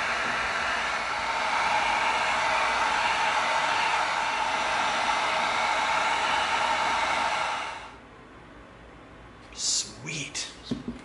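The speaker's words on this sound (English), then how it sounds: "We're gonna get out the heat gun." A heat gun blows hot air over EVA foam to open a crease, a steady loud hissing roar that cuts off abruptly near the end, followed by a few faint handling noises.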